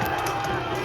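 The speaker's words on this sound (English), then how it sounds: "Cheer now to put strength into their sword arms." Large outdoor crowd roars at a Battle of Hastings reenactment, a dense, steady wash of cheering and shouting voices that holds through the brief moment.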